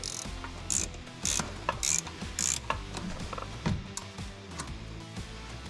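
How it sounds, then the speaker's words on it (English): Icon ratchet wrench turning bolts while the AC compressor is removed during oil pan service on a 2019 Kia Optima: repeated bursts of rapid clicking ratchet pawl, close and clear, with short pauses between strokes. "Now these Icon ratchet wrenches are nice."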